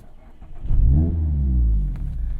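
A Mazda ND3 Miata engine with an aftermarket exhaust gives one deep, rumbling rev that climbs and then settles into a steady low drone, close by with no voices.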